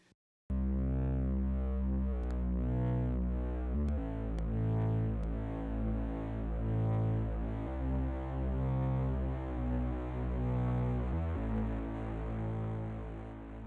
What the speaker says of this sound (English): After that we have the bass line for the break section too.